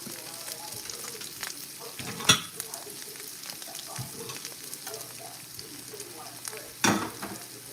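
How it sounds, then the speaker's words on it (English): An egg fries in a small pan with a steady crackling sizzle, interrupted by two sharp clanks of the spatula as it is flipped, close and alone without speech. "get that egg flipped over"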